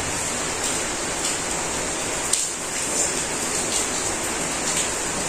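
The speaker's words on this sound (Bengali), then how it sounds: "বৃষ্টি নামছে" Rain falls steadily over a village, a continuous even hiss with a few faint drop ticks throughout, fairly loud and unbroken, with no voices.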